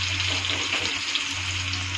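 Asafoetida tossed into hot oil with frying garlic, onion and green chillies, giving a steady, close sizzle that holds without a break from start to finish.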